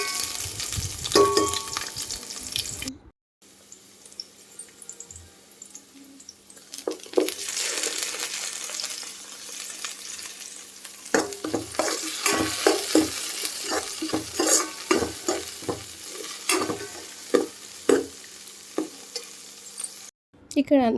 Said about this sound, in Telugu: ఇక్కడ వచ్చేసి కడాయి పెట్టేసుకొని ఆయిల్ వేసేసుకొని ఈ దినుసులన్నీ కూడా వేసుకొని కొంచెం ఆనియన్ వేసుకొని వేయించుకోవాలండి